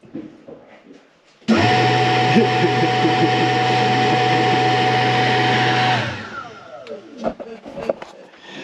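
A newly installed bathroom exhaust fan switches on abruptly with a loud, steady whirring drone, runs for about four seconds, then spins down, followed by a few clicks and handling noises.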